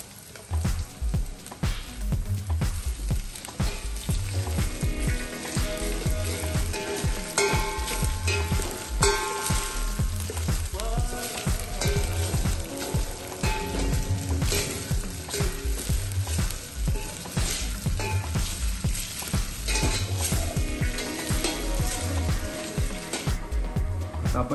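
Potatoes are sautéed with fried onion in a pan for a Radhanagari-style milk amti, a loud continuous sizzle with repeated spatula scrapes and stirring knocks, close up and without speech.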